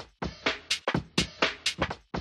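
Two layered breakbeats play together as punchy, dry drum hits in a tight repeating groove, kick and snare strikes sharp and close with no talk.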